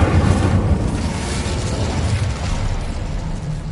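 Incendio fire spell in Hogwarts Legacy, a loud roaring whoosh of flame that bursts at the start and keeps burning as a dense, crackling rush.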